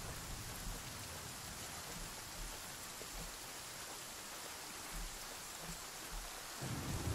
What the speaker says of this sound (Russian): Может и дождик прекратится как раз таки.